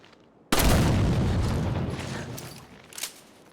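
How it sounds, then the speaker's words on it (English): A sudden explosion in the video game Resident Evil 5 bursts in loud and broadband, then rumbles and slowly fades, with a smaller bang near the end. "You hear that? That's an explosion."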